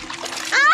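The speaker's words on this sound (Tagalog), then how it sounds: "Biglang humampas ang malakas na alon sa kalagitnaan ng kanyang paglapit" A strong ocean wave crashes in a single loud, near splash, rising abruptly after a softer watery wash, with a child-like voice faintly present.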